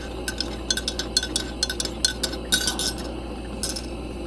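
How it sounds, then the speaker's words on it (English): A spoon clinks repeatedly against a cup while stirring sweet cream and pumpkin spice creamer into coffee, with quick irregular taps close by and no talk. "I'll go ahead and give it a little stir here."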